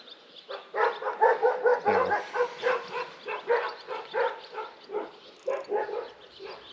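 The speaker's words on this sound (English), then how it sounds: "not sure what they're barking at" Several dogs bark repeatedly in quick, overlapping bursts at moderate distance on a farm, a continuous chorus of yaps and woofs with no talking.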